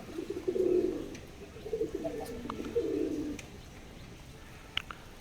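Pigeons coo softly at close range in a few low, rounded bursts during the first three seconds, then fall quiet against a faint background hum and occasional tiny clicks.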